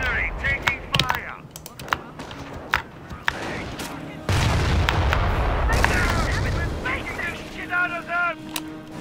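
Artillery shells and gunfire crash around a base battery in Company of Heroes, a run of sharp bangs followed by a long loud rumbling barrage, with game voices speaking over parts of it.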